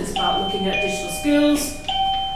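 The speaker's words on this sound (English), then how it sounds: "That's the doorbell." A doorbell rings with a few bright, sustained electronic chime tones, clear and fairly loud, sounding under a person talking.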